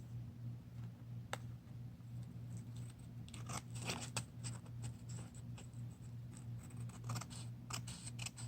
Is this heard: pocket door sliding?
no